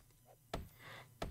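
Two sharp, loud cracking breaks of a pumpkin smashed in the zombie survival video game 7 Days to Die, about 0.7 s apart, each a brief bright burst with a short scrape-like tail, over a low background hum.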